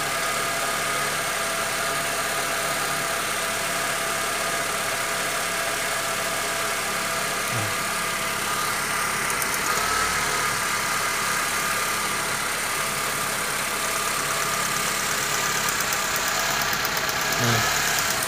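A Honda Civic FD engine idles steadily and evenly for a long stretch during an ignition coil test, a constant mechanical hum with a faint knock and no voices.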